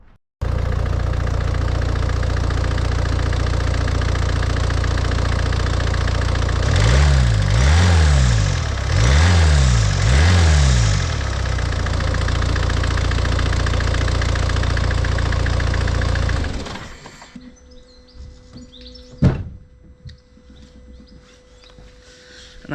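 A Peugeot RCZ engine idling with a homemade induction kit fitted: a loud, steady low drone close by with a few rhythmic swells in the middle, then it cuts off abruptly, leaving quieter ticking and a sharp knock.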